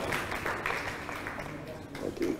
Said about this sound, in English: can we clap for ourselves for a fantastic session?